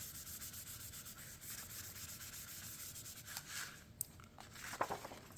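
A hand firmly rubbing glued paper down on a junk journal belly band, giving a steady close dry scraping and swishing friction, with a couple of sharper taps near the end.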